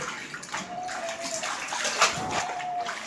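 Leafy greens are rinsed under running water, a continuous close splashing and trickling with a brief brighter surge midway and no voices.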